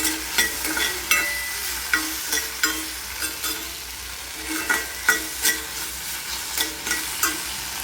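Okra frying in oil in a hot kadhai while being stirred, with close, loud scraping strokes that repeat steadily over a continuous sizzle.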